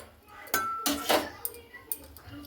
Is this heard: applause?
no